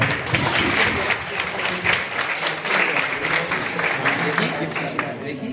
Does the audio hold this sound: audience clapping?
yes